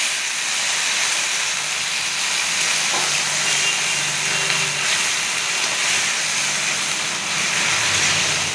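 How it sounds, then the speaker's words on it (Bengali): Pumpkin flower posto being stirred in a pan, a steady soft hiss of cooking with faint scraping, continuous and close with no talk. "ভালো করে নেড়ে নিচ্ছি"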